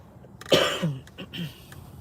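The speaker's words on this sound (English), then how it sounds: "I'll have to excuse my coughing." A single short cough near the middle, followed by a couple of softer throat sounds, close up in a quiet room.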